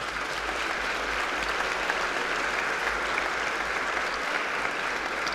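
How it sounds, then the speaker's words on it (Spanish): An audience at a book fair talk in Mexico City's FIL Minería fills the room with dense, even applause, a continuous hiss of many clapping hands at a constant level throughout. "me ayuda un aplauso para todos ustedes y para esa parte"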